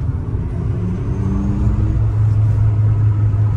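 A low synthetic engine hum from an Abarth 500e electric car's artificial sound system rises gently in pitch, steady and close, heard inside the car.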